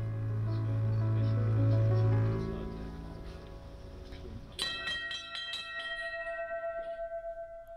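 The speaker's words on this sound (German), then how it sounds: "Weil Papa auf dem Schiff eine größere Glocke haben wollte, weil denn der Klang anders ist." A large ship's bell rings aboard a Rhine passenger boat, with repeated resonant strikes and long shimmering decays. The ringing follows a low droning tone.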